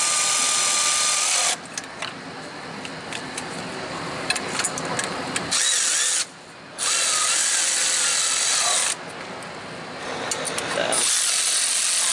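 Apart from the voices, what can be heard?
impact wrench running in catalytic converter bolts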